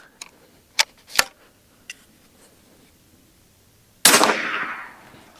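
A Hatsan Factor Bullpup regulated carbon .357 airgun fires one loud, sharp shot with a short decaying tail, after several small mechanical clicks and ticks in a quiet setting.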